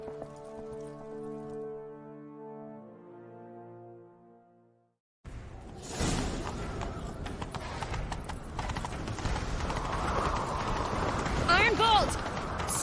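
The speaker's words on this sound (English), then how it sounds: "Grab a horse, we'll chase him down." Horse galloping during a chase in the video game The Witcher 3, a fast, loud clip-clop of hooves starting after a musical passage and continuing steadily, with a neigh near the end.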